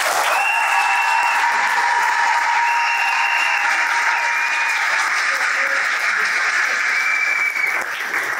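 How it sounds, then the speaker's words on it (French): Sustained applause from a crowd of guests at a civil wedding ceremony in Gabon, steady clapping that fills the whole stretch at close range and fades slightly at the very end. "nommé Marmont, que je vous demande d'applaudir très fort."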